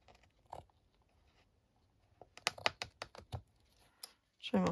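Scissors trimming loose bits of lace from a handmade fabric journal cover, a quick cluster of crisp close snips after a quieter stretch of faint handling noise.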